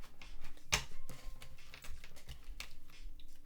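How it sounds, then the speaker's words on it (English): Tarot cards pulled one at a time from a deck during a tarot reading, giving a few crisp, close papery snaps and flicks, with the sharpest one near the start and softer shuffling rustles after it. No one speaks. "just going to get a few cards out of this"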